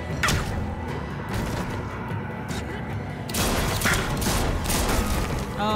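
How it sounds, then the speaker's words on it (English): Gunshots crack in The Walking Dead: The Final Season game, with repeated sharp shots over a busy, noisy background and a louder stretch near the end, mixed with game voices. "Where is she shooting me from?"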